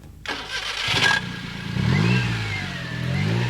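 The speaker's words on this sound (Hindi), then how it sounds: "इस तरह से ये बाइक स्टार्ट हो गया है" A homemade motorcycle built from a Maruti 800 cranks and catches, then settles into a rough, sputtering idle close by, with a brief rev midway.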